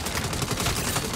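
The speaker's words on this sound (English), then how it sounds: "it's an automatic pistol" Rapid automatic pistol fire in Saints Row 5, a loud, fast stream of tightly spaced shots rattling without pause through the brief moment.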